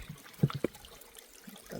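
Trickling stream water along a hiking trail, a soft brief dribble with a few small splashes, faint and close with no voices.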